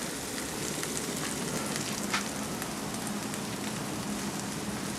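Butterflied chicken cooks over indirect heat on a gas grill, with one burner left lit. A soft, steady sizzle and crackle runs on with no talk, fairly quiet and even throughout.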